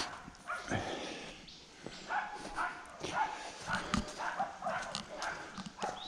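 Small dachshunds barking in a forest of blue gum trees, with a run of sharp, scattered yaps and barks at moderate distance, some clearer and closer, over outdoor ambience.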